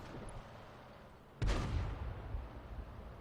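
A single heavy cannon blast from a Sturmpanzer II self-propelled artillery piece in World of Tanks booms out sharply and loud, followed by a rumbling decay over low background battle ambience.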